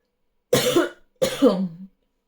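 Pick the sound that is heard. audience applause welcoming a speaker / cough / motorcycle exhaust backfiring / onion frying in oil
cough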